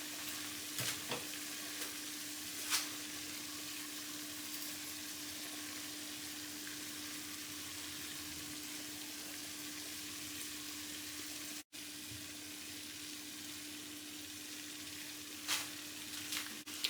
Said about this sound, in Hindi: मसाला डाल के सिर्फ 1-2 मिनट भूनेंगे।